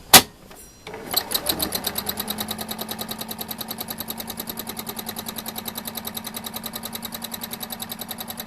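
A sewing machine doing freestyle machine embroidery starts with a thump, then runs in a fast, even mechanical rattle of needle strokes. It is close and fairly loud and is heard alone.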